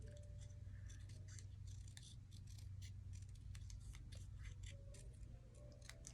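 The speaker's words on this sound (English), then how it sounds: "You just want to cut it as close as you can." Scissors snip repeatedly through paper stickers, trimming close along the edge in quick irregular cuts, close and fairly quiet over a steady low background hum.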